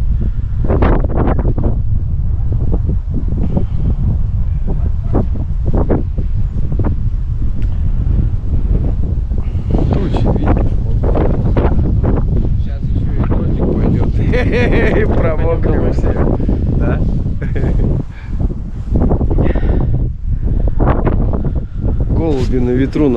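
Strong, continuous wind buffeting the microphone at the edge of the steppe, with loud low rumbling gusts throughout and people talking intermittently under it.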